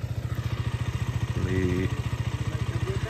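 A KTM motorcycle engine runs at a steady idle with an even, throbbing low pulse. A voice speaks briefly over it midway.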